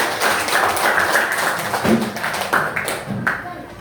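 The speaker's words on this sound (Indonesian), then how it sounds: "Kasih tepuk tangan untuk kelompok 3 dulu." Students in a classroom clap for a group, a burst of close, uneven hand-clapping and tapping that runs throughout with a few louder thumps.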